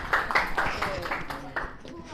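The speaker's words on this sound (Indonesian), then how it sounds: "Tepuk tangan untuk dua kelompok yang tampil." A classroom of students claps for two groups who have just presented, with a burst of irregular, moderately close hand claps under a low voice.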